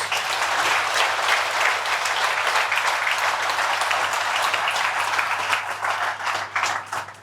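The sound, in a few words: round of applause at company meeting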